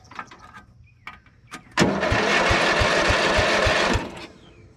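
A motor starting after an engine swap on a carbureted vehicle with the air filter removed: quiet clicks and cranking, then the engine catches and runs loudly with a steady rapid pulse for about two seconds before dropping off.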